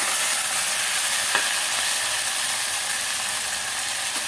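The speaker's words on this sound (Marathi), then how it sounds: "आता ती फोडणी छान बसावी म्हणून चमच्याने हलवून आपण मिक्स करूया." Cluster beans (gawar) sizzle in hot oil with tempered spices while a spoon stirs them. A constant close hiss runs throughout, with one faint clink of the spoon.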